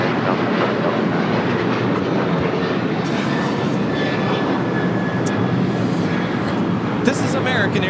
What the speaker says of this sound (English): This is American Airlines 2689 taking off to Chicago O'Hare on a 737-800.